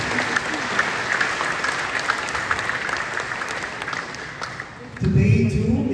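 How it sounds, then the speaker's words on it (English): Audience applause at a theology school graduation ceremony, a broad, sustained patter of many hands filling the hall, thinning toward the end as a low voice begins speaking over it. "big round of applause"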